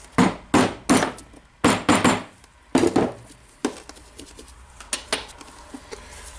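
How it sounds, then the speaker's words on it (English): Sharp metallic hammer strikes on a socket driving a ball bearing's inner ring into a Makita DGA506 angle grinder, several quick blows in clusters, then lighter taps tapering off, close and loud. "You can use the socket like this and hammer it in the inner ring."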